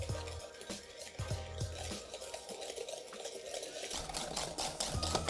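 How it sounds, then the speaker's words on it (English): Eggs being whisked with sugar in a bowl, a continuous rhythmic clicking and scraping of the whisk against the bowl, fairly quiet and close, with no voices. "We're gonna grab our whisk. Whisk these guys in with the sugar."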